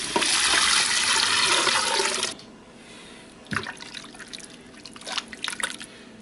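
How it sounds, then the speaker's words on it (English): Stock poured into an Instant Pot with a steady rushing splash for about two seconds, then quieter sizzling, trickling and a few clinks nearby. "Pour in your stock."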